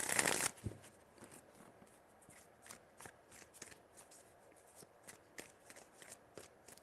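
Tarot cards being shuffled by hand, opening with a loud riffling burst and then settling into soft, irregular card slaps and flicks close by, with no talking.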